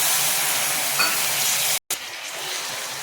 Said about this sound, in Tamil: இதில் சுடுதண்ணி 1/4 டம்ளர் ஊற்றிக்கிறேன்